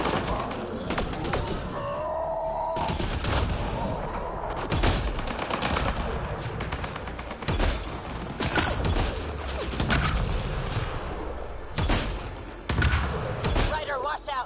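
Turret gunfire in Mass Effect Andromeda combat: dense, continuous rapid shots and mechanical clatter fill the whole clip, loud and close, with occasional shouted voices over the din.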